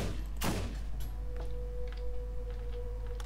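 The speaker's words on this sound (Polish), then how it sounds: "A jakbym tu jeszcze raz tak strzelił?" A single loud, close gunshot cracks out in the Borderlands video game, then fades over a steady low background drone with faint scattered game noises.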